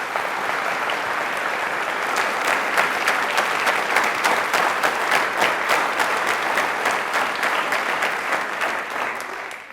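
Enthusiastic studio audience applause during a Hindi quiz programme, a steady, full patter of many hands that stays loud and even for several seconds before tapering at the end.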